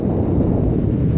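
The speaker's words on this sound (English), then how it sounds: "It's really windy." Strong wind buffets the microphone outdoors, a loud, steady low rumble that fills the whole moment with no pauses and no voices.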